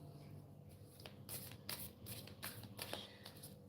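Kyle Gray portal oracle cards, the Gateway of Light Activations deck, are shuffled by hand, giving soft, close riffling and flicking in several quick bursts at low volume.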